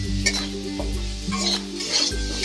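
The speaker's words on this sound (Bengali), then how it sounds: "লঙ্কার গুঁড়োটা দিয়েও একটু নাড়িয়ে নেব।" A spoon stirs chili powder through hog plum (amra) curry in a pan, giving steady scraping strokes over a low, continuous sizzle with occasional light metallic taps.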